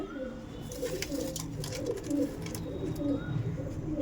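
Pigeons coo softly and repeatedly in a breeding room at a Bengali pigeon sale, their low murmuring steady throughout with scattered faint chirps and rustling.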